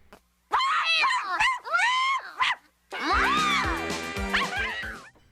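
Empress, a cartoon pet dog in Beverly Hills Teens, is voiced by an actor with high, whiny yips, yelps and drawn-out howling cries in two loud bursts, separated by a brief pause, with nothing else under them.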